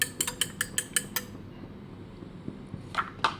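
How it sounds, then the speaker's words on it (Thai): Rapid, rhythmic clinking of a utensil whisking eggs in a bowl, about a dozen quick taps in a burst, then a pause and a few more strokes. "ใส่ตีไข่ก่อนแล้วกันนะคะ ตีไข่ให้แตกก่อน"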